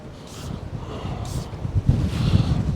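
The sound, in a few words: wind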